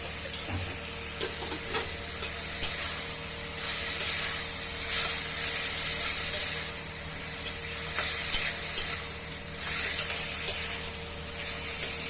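Banana blossom is being stir-fried with half a spoon of sugar in a pan, giving a steady soft sizzle with scraping stirring sounds throughout, no talk.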